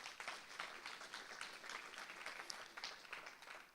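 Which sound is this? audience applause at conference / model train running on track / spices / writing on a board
audience applause at conference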